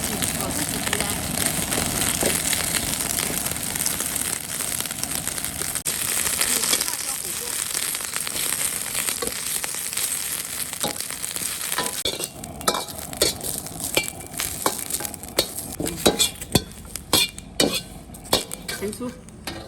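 Chili peppers stir-fried in a hot wok: a steady sizzle with scraping spatula strokes, turning into sharper, louder clinks and scrapes against the metal toward the end, with a voice talking over it.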